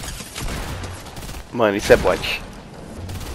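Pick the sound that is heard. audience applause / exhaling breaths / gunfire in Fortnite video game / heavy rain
gunfire in Fortnite video game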